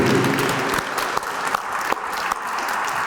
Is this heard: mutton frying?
no